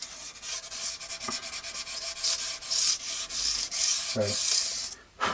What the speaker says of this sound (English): I'm going to try and cut that edge there with sandpaper